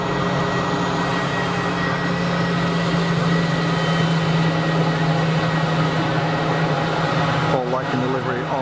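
A Boeing 787 Dreamliner jet departing Geneva Airport, heard as a steady, loud broadband engine roar with a low hum, continuous throughout, with people talking faintly near the end.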